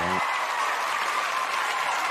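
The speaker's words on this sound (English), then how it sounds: "I got to give you guys a round of applause" A crowd applauds loudly and continuously at a performance, a thick, unbroken roar of clapping after a brief voiced sound at the very start.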